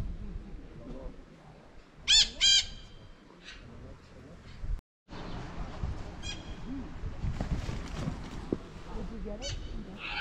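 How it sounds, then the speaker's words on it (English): Two sharp, shrill parrot squawks ring out close by, followed by more scattered calls over a background of talking and rustling. "These guys are the parrots."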